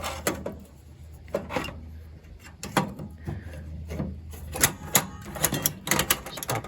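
A butane canister being lined up and clicked into a portable butane stove, with close scraping, rubbing and several sharp plastic and metal clicks and knocks at irregular intervals.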